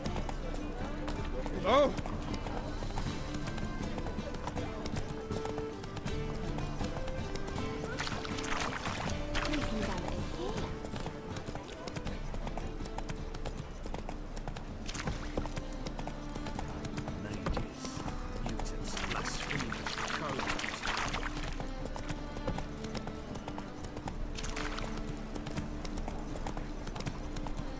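Geralt's horse Roach galloping in The Witcher 3, a steady rhythmic clip-clop of hooves running continuously at a moderate level, with someone talking over it.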